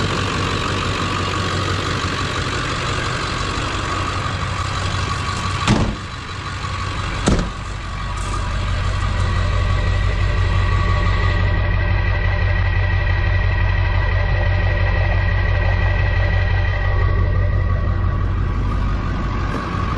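A 2000 Ford F-250 Super Duty 7.3L Powerstroke diesel engine with slight blow-by idles steadily with a deep, rumbling drone, joined by a couple of brief knocks partway through.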